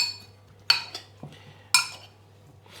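A metal spoon stirs potato wedges through a marinade in a bowl, giving several sharp clinks and scrapes against the bowl in short bursts with quiet pauses between them, close and clear with no talking.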